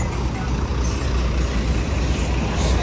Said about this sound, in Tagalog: sobrang laki ng truck ng ating DPS Manila.